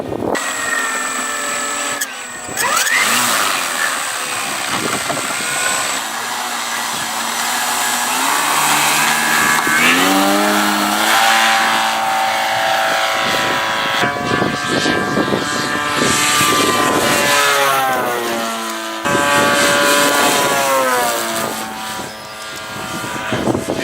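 Electric Hangar 9 P-51 Mustang RC model plane motor whining loudly and steadily near the microphone, pitch rising and falling through the run with no talk over it.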